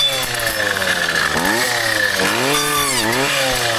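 A brushcutter cutting small spruces holds a steady, loud, close engine whine, with its pitch dipping and recovering several times as the blade bites into the wood.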